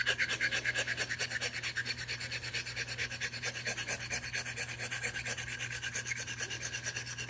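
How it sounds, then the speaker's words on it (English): A Gold Dollar 208 straight razor is honed on a sharpening stone with rapid, regular half-length strokes, a steady rhythmic rasping scrape repeating close up without pause. "Just doing half strokes the length of the stone, and as you can see, the razor hits the entire stone."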